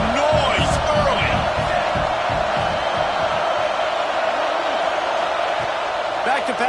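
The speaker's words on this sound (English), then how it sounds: "This crowd bringing the energy and noise early." Loud, dense stadium crowd roar at a football game, a steady wash of cheering and shouting that fills the whole clip without letting up.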